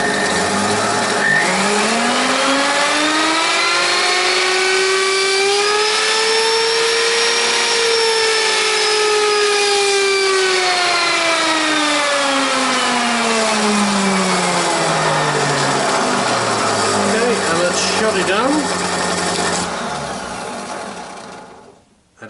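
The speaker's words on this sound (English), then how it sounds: "router is running hands-free" A router mounted in a router table whines steadily as its speed rises and then falls in a smooth arc, running alone for about twenty seconds before winding down at the end.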